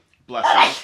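One short, loud sneeze bursts out close by after a moment of quiet.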